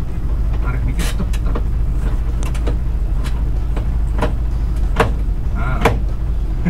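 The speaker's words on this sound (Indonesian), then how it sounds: "di belakang kedengaran suara pintunya itu nggak rapat" An old Mitsubishi L300 blind van's loose, badly sealed rear door rattles and knocks in sharp irregular clicks over a steady low engine and road drone while driving, fairly close.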